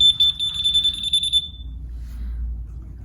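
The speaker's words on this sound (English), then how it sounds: "again the alarm is self-arming" A 2011 Yamaha R6 motorcycle's alarm arms itself, chirping in a quick series of shrill electronic beeps, then holding one steady tone before cutting off over a low background rumble.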